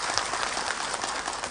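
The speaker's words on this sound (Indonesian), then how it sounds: "Tepuk tangan dong" A studio audience at an Islamic talk show applauds steadily, a dense, continuous wash of many hands clapping at moderate loudness without pause.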